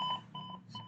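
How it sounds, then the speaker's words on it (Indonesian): Buzzer on an embedded temperature sensor circuit, triggered when the reading goes above the threshold, giving faint, steady electronic beeps in three short pulses close by. "itu dia buzzer dan LED-nya itu akan menyala"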